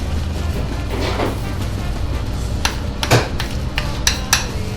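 A spoon scrapes and clinks against a bowl while a spice mixture is stirred together, a few sharp taps standing out over a steady low background hum, close and without talk.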